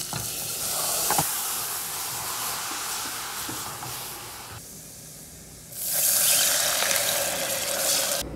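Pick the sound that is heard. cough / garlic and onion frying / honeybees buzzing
garlic and onion frying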